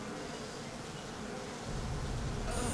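Bees buzz in the video game Bioshock, a dense continuous insect drone that grows louder and closer partway through, with no speech.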